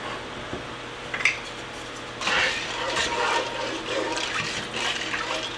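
Tap water gushes into a cooking pot on a kitchen stove with a steady, splashy rush, after a few clinks of cookware, ahead of boiling.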